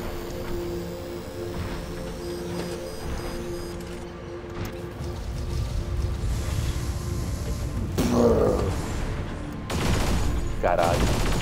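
Rapid gunfire from robot weapons in the PC mech battle game War Robots, a dense sustained volley with heavier blasts later, someone talking over it.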